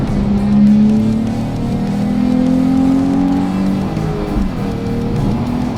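A Nissan 350Z sports car engine with an aftermarket intake revs hard in third gear and climbs in pitch as it accelerates, a loud, throaty roar heard from inside or close by.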